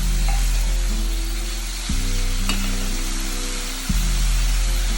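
Spices and seeds roasting in a hot pan for chicken curry, a steady bright sizzle and crackle with occasional stirring scrapes, close and continuous with no talking.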